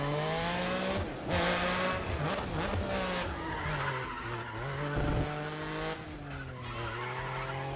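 Volvo 850R in a racing video game, engine droning and shifting pitch as tires squeal and skid repeatedly through corners, steady and fairly close.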